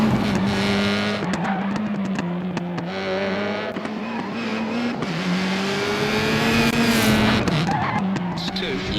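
A rally car slides under braking in the Assetto Corsa Rally video game, a sustained loud engine drone with tire skidding and squeal throughout, mixed with speech.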